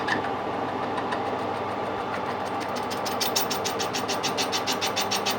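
A lathe takes a 0.2 cut through a hardened gear, giving a steady mechanical drone with a rhythmic, rapidly repeating chatter that grows sharper partway through, close and continuous with no talk.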